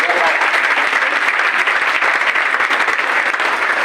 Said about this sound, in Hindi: सर के लिए फिर से एक बार जोरदार ताली होना चाहिए।